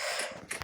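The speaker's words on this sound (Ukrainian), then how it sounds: "Двері закриваються." A mechanical creaking and sliding of a heavy aircraft cabin door mechanism, followed by a couple of dull thuds as it shuts, fairly close and brief.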